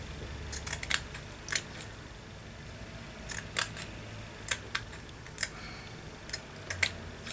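Scissors snip through a piece of crocheted lace in quick, crisp clicks, irregularly spaced and close by over a quiet background, with no speech.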